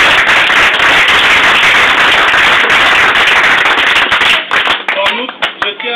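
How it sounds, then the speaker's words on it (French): An audience in a hall applauds after a speech at a Belgian sports event, dense loud clapping that holds for about four seconds and then thins out into a few scattered claps. "Oui, vous pouvez vous applaudir."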